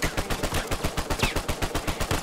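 Rapid, evenly spaced gunfire from a sniper rifle in the Uncharted 4 multiplayer video game, about a dozen sharp loud shots in quick succession with no talking over them.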